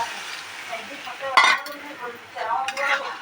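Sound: stirring cauliflower and bhetki fish curry in a pan

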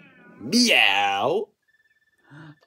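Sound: person imitating cat meow

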